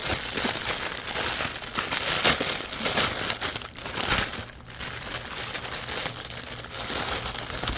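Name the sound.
crinkling packaging while unboxing craft supplies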